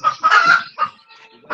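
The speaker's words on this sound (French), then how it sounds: "chasse-moi un peu la poule" Hens clucking loudly and excitedly as they are chased around a backyard flock, a quick series of agitated bursts with brief pauses between them.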